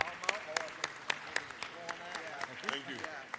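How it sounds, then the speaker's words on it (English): A crowd in the Georgia House of Representatives chamber applauding with scattered sharp claps and a few voices mixed in, moderately loud and sustained for a few seconds. "let's give LifeLink and all these organ donors a round of applause"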